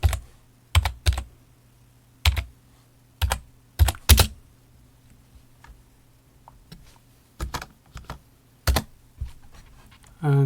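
A computer keyboard clatters in short bursts of close, crisp keystrokes separated by pauses, with a faint steady hum in the background.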